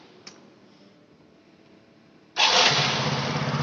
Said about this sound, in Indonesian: Oke, kita coba hidupin motornya. Oke. Oh tuh, motornya langsung hidup.